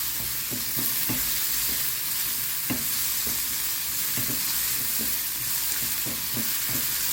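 Onions and minced meat fry in a pan, a steady soft sizzle broken by frequent sharp scraping clicks of a spoon stirring, close and alone with no talk.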